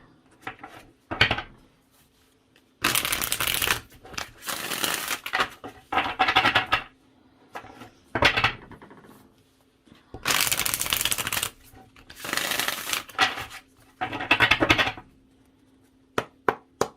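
Tarot cards are shuffled by hand on a table in a run of crisp riffling bursts, some short and some lasting a second or more, separated by near-silent pauses, close and clear.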